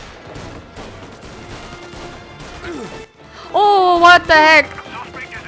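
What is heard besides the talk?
gunfire in Mafia Definitive Edition video game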